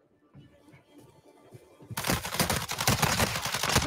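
Call of Duty gunfire erupts after a quieter opening, turning into a loud, dense stretch of rapid automatic shots that fills the rest of the moment.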